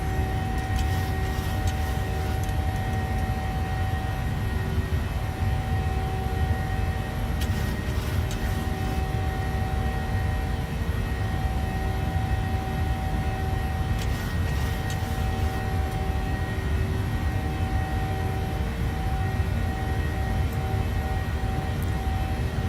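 Steady jet engine drone from a PMDG 737-700 in a flight simulator, flying in the Philippines, a continuous even roar with faint tonal hum and no talk.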